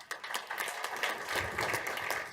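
Applause at a Tucson city council meeting honoring the Palo Verde High School state championship basketball team, a moderate round of clapping from the room, steady and somewhat distant.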